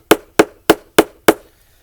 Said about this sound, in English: Now that we got that out, we can continue carving.